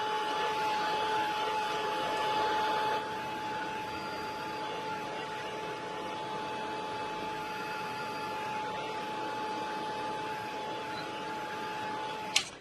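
A dryer blows steadily on a painted artwork to dry the paint, a constant close whooshing hum with a thin steady tone, easing slightly after a few seconds before a brief click at the end.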